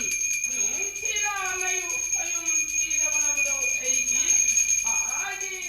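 Small bells at a Manipuri ritual flower offering ring continuously in a steady high shimmer, while a voice chants or sings in rising and falling phrases over them throughout.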